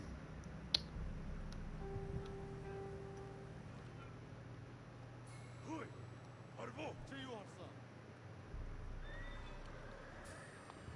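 A horse neighs and hooves clip-clop at a distance in Ghost of Tsushima, faint and brief amid a steady game soundscape and low background hum.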